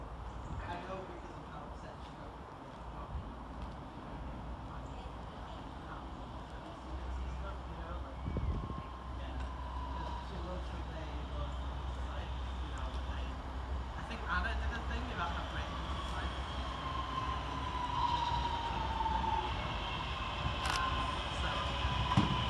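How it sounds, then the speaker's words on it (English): A Northern class 323 electric multiple unit pulls into Patricroft station on a Liverpool Lime Street to Crewe service, a steady low rumble and hum slowly building as it draws near, with rising whine tones toward the end. "here comes our train in the form of 323232"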